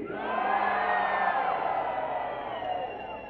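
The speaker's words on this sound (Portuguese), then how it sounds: "todo mundo levanta os braços e dá um grito." Concert audience at a tribute show in a Brazilian shopping mall shouting and cheering together, a loud sustained crowd roar that fades slightly toward the end.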